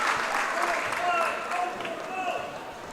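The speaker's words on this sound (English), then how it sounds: "as she gets a roaring standing ovation from this Comet crowd" Crowd at a girls high school basketball tournament game giving a standing ovation: a dense wash of clapping and cheering, loud at first and easing slightly, with squeaks and commentary talk over it.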